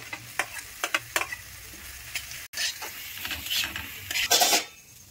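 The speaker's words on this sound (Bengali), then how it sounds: "এবার আমি এখানে একে একে রসুন কুচি দিয়ে দেব, পেঁয়াজ কুচিগুলো দেব" Chopped garlic and onion sizzle in butter in a pan for veg momo filling, with a steady frying hiss under repeated scraping strokes of a spoon, close and continuous.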